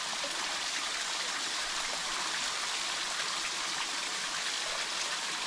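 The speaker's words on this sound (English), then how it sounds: "And then as we come around, we hit the waterfall. How cool is that? Small, I know, but listen to the sound." A small waterfall on a hiking-trail stream in Alabama, heard as a steady, close, even rush of falling and splashing water with no other sounds.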